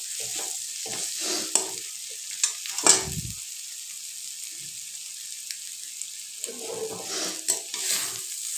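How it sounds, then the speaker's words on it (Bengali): Egg bhujia, a Bengali scrambled egg, frying in a pan while a spatula stirs it, a steady soft sizzle broken by short scraping strokes and one sharper clatter, close and without talk. "ডিমের ভুজিয়াটা প্রায় হয়ে এসেছে। এইভাবে আরো একটু নাড়তে থাকবো"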